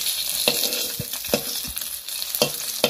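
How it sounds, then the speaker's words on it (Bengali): Lata fish pieces fry in oil until golden brown, a steady crackling sizzle close by, broken by several sharp scrapes and clacks of a spatula turning them in the pan. "মাছটা আমাদের প্রায় ভাজা হয়ে গেছে, আর একটু গোল্ডেন ব্রাউন করে নেব"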